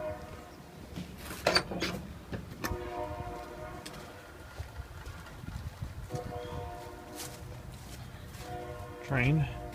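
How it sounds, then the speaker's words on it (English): A train rolls past at a distance while someone works on an old pickup, its horn sounding in several sustained blasts amid rumble and clatter, with a brief spoken word near the end. "Train."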